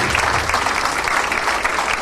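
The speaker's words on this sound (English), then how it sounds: "give you and our executive a loud round of applause" A loud, dense round of applause from the audience at an Indian Arrival Day function, steady clapping from many hands filling the whole moment without speech.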